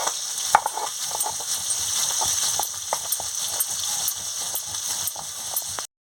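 Pabda fish frying in hot oil in a pan, giving a loud, continuous crackling sizzle with dense popping throughout.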